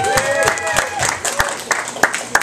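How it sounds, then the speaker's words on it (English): Comedy club crowd at an open mic night in a bakery cafe breaks into applause, scattered sharp claps with some crowd murmur and a voice underneath, fairly close. "You should give yourselves a round of applause."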